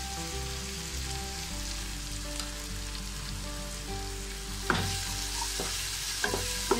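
Vegetables being stirred and mixed in a hot pan with spaghetti noodles, a steady sizzle under background hum with a few sharp clinks of a utensil against the pan toward the end.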